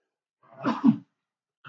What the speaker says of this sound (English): Sneezing also.